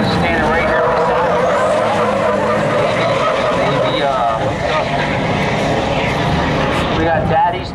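Diesel pickup trucks roar down a drag strip at Mason-Dixon Dragway, their engines a loud, sustained, rising drone with tire noise, while an announcer talks over them throughout.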